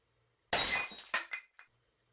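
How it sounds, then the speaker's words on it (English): Glass shatters suddenly in a loud crash out of near silence, followed by two or three smaller tinkling pieces falling and settling. "suddenly we hear the sound of glass breaking."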